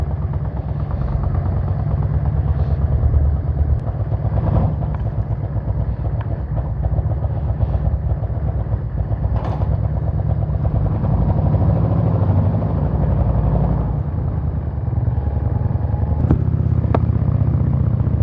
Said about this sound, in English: Look at this beautiful motorcycle